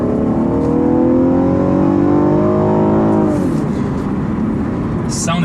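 A 3.6-litre V6 in a 2015 Cadillac ATS Coupe revs hard under acceleration, its rising harmonic drone loud and close, then easing off near the end with road noise beneath.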